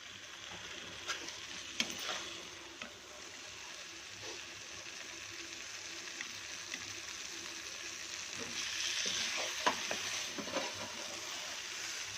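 Chicken sukka fries in a pan with a soft, steady sizzle, punctuated by occasional scraping taps of a stirring spoon; faint and close, with no talk.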